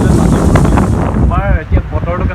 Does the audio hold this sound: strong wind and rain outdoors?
yes